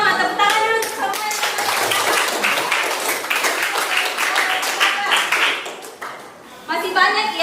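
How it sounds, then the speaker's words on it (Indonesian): A classroom of students clapping hands together, brisk and close, with overlapping bursts of applause and a short pause before a final round, voices talking over it at the start and end. "Tepuk tangan dulu semua."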